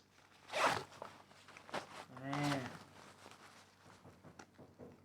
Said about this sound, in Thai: เป็นซิป YKK